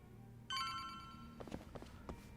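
A telephone rings in the Judgment video game, a sustained electronic trill that starts abruptly and holds steady, followed by a few sharper clicks and knocks near the end.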